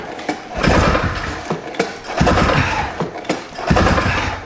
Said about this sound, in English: The throttle is wide open. We'll pull her over.